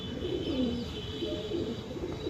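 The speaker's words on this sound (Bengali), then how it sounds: "এটা একটা নর কবুতর এটা একটা ইনব্রিড কবুতর" A male inbred racing pigeon, a 2021 bird, gives a low, soft, continuous cooing murmur close by, unbroken across the moment and free of any talking.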